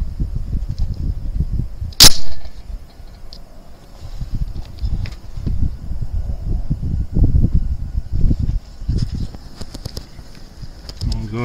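A single sharp rifle shot at an outdoor range, firing a 6mm ARC 105-grain boat-tail hollow-point factory load from an 18-inch barrel, cracks once early on while someone talks steadily throughout.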